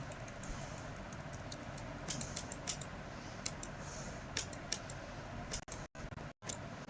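Computer keyboard keys pressed while entering and saving a voucher type in Tally Prime accounting software: scattered sharp clicks and taps over a steady background hiss, with a couple of brief dropouts near the end.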